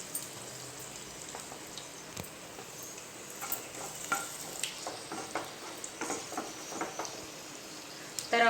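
Cumin, mustard seeds and dried chillies hit hot oil, crackling and popping in a steady close sizzle with irregular sharp spits throughout.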